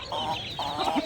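Village country chickens cluck in short, close bursts, a few quick soft calls in succession with no talking.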